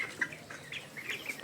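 Heat-stressed chickens in a shed with a low tin roof, during a midday power outage, cluck and chirp softly in a quick scattered series, fairly faint and close, with no voices.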